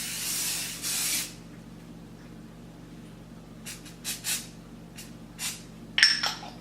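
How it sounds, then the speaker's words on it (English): Jeunesse NV airbrush foundation sprays out in a close, soft hissing burst lasting about a second, followed by quiet with a few small clicks and taps from handling the can. "So let's go for spray number 2."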